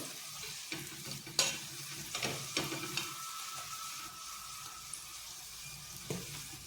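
Banana slices stir-fried in a pan, with a faint sizzle broken by several scraping and clattering stirs and turns, quiet and close.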